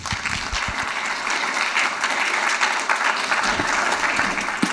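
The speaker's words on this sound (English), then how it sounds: "Please put an applause for Evan." An audience applauds a speaker at a tech talk, a dense, steady wash of many hands clapping throughout, fairly close and without voices.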